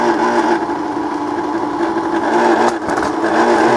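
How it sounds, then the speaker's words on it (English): A Bell & Howell Autoload 8mm film projector's fan motor runs steadily and fairly loud, a constant mechanical whir with a brief dip near the end, no talking over it. "That'll be the fan, I believe. Yeah, the motor."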